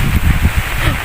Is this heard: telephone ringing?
no